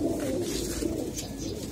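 A pigeon cooing softly while held in a hand, a low continuous murmur close up with faint background noise.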